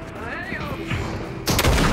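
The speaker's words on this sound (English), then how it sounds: "Oh, they're shooting over here." Fortnite gunfire plays as a short burst of game shots, loud and sharp near the end. A player talks over the game sounds.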